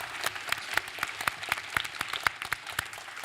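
Scattered applause from a modest audience at the 2018 Calgary Invitational Elementary Spelling Bee, honoring a young contestant; individual claps stand out in an uneven, fairly quiet patter with no talking.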